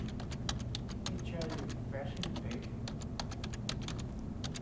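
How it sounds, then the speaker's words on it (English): Someone types on a computer keyboard, irregular crisp key taps scattered over a steady low background hum, fairly faint, with brief murmured speech in between. "Am I typing this right?"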